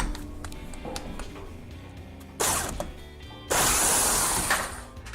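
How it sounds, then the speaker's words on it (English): An electric impact gun removes torqued sprocket bolts on an RC51 motorcycle, firing two loud, close bursts, a brief one and then a longer hammering rattle of about a second, over quiet mechanical clicking. "I happen to have this nice electric impact gun"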